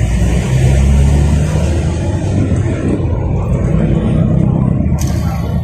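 A Suzuki F6a engine in a multicab runs steadily with a constant low rumble and a persistent abnormal noise, loud and close, with no talk over it.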